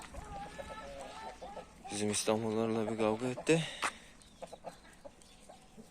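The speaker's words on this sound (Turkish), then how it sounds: "Güzel bir horoz genç yani 2 yaşında falandır en fazla." A young rooster, about two years old, clucks and makes a drawn-out harmonic call close by, while someone talks over the sound.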